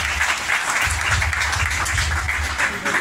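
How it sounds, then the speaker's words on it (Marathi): An audience applauds at an award ceremony honouring doctors, with dense, continuous clapping from a large crowd, loud and sustained throughout. "एकदा जोरदार टाळ्या वाजवा"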